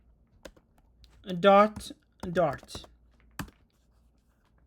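Sparse, crisp clicks on a computer keyboard as a file name is typed during a Flutter coding session, with someone talking over and between the keystrokes.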